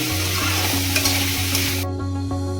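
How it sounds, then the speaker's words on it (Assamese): Chicken frying with ginger and garlic for an Assamese chicken dish, a steady loud sizzle with a low cooking hum underneath and repeated scraping stirs, alone with no talk. "এতিয়া আদা নহৰু দি মই ভালদৰে চিকেনখিনি প্ৰায় 10 মিনিট সময় ভাজিম"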